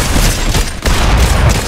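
Rifle gunfire in Fortnite, a dense rapid volley of loud close shots with booming low thuds and a brief gap midway, no talking over it.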